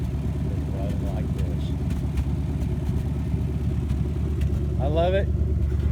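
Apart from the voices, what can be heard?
car engine running after plugs, wires, oil, gas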